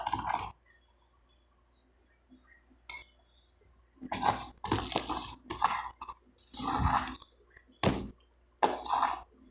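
Spoon stirring table salt into water in a glass: bursts of clinking and scraping come in short rounds, separated by quiet gaps, near and soft.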